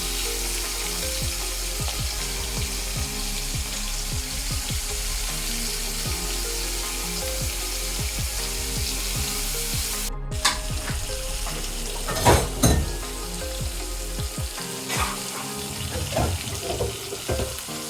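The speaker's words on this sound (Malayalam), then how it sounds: "ഇനി നമുക്ക് മീൻ വറക്കാം" Fish frying in hot oil makes a loud, continuous sizzle with bubbling crackles, a brief dropout near the middle, then some clattering handling sounds as the frying goes on.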